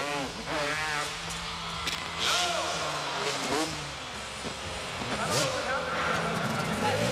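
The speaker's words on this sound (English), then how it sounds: "It's interesting, the sound of the bike." A Moto X dirt bike engine revving during a step-up high-jump attempt at an X Games event inside a stadium, its pitch rising and dropping in surges beneath commentators' talk and crowd noise.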